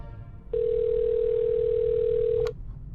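A steady telephone dial tone in a sci-fi comedy podcast, a single pure hum that starts abruptly, holds loud and unchanging for about two seconds, then cuts off with a click, no talk.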